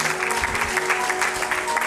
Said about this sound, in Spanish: Dele fuerte aplauso.